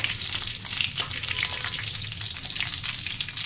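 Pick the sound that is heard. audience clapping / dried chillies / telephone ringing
dried chillies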